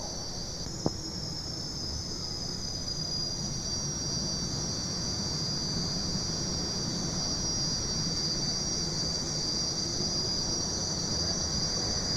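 A pulling tractor fitted with two stacked Lycoming T53 turbine engines at an indoor farm machinery show tractor pull, giving a steady, high turbine whine over a constant broad roar that holds without a break.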